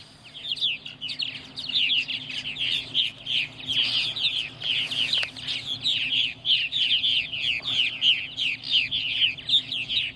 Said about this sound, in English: A lot of squawking.